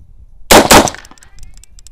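A single sharp report from an AR15 rifle fitted with a 22mods4all upper, close and loud, with a quick second crack right after and a brief ringing tail before quiet returns.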